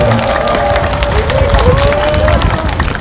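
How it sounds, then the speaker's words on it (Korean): A live audience at a youth town-hall talk claps and cheers together, a dense, sustained wash of applause filling the whole moment with crowd noise and some voices mixed in. "감사와 존경의 박수를 한번 같이 보내주시길 부탁드립니다."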